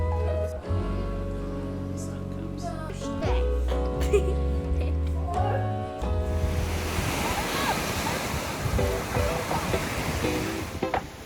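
Ocean surf washing onto a beach, a broad loud rushing roar with wind buffeting the microphone, taking over in the second half after a stretch of music with some talk at the start.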